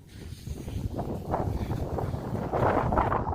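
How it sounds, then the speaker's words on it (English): Gusty wind buffets the microphone in uneven surges, a low rumbling roar that swells louder toward the end. "And of course, it's windy again."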